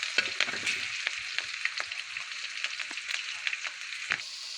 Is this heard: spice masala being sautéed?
yes